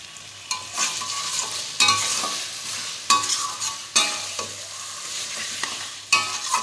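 Curry stir-fried in a pan, bursts of loud scraping and clanking stirs every second or so over a continuous sizzle, close by, with no talking.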